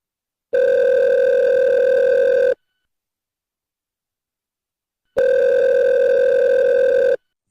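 Two long, steady ringback tones on a phone line, each about two seconds, separated by a pause of silence; clear and close.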